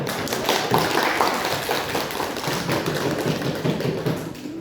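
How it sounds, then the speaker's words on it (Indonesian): Applause from a small classroom group, a steady patter of hand claps sustained for several seconds, fairly close and without talk. "kita kasih aplaus ya"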